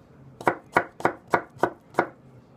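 A Masakage Yuki knife chops through starchy potatoes onto a board in six crisp, evenly spaced strokes, each one a clear, close thud with a short snap.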